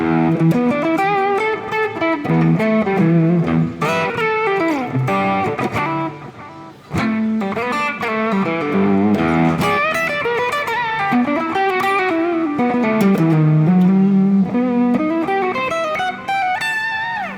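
A sustained electric guitar lead plays a bending, effected melody with a thick, slightly distorted tone, loud and continuous with no talking.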